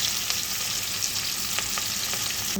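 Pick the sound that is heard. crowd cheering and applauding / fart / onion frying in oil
onion frying in oil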